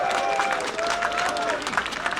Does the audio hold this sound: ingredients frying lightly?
no